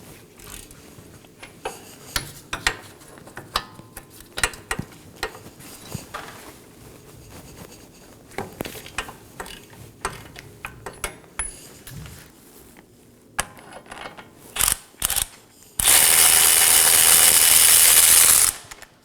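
A hand ratchet loosens the 21mm brake caliper bracket bolts on a 2018-2024 Chevrolet Equinox front wheel, giving close, repeated clicking bursts, followed by a loud burst of steady hissing at the end.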